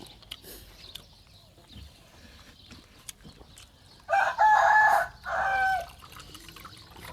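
A rooster crows twice in close succession, loud and near, against a faint background of quiet clucks and soft drips.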